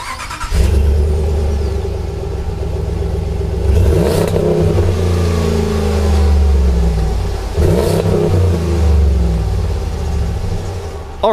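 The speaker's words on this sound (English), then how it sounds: "let's see what the new one sounds like." A new RAM pickup truck engine, stock exhaust, revs hard twice from a deep idle, each blip rising to a loud roar and falling back, recorded close with a rumbling low drone between the revs.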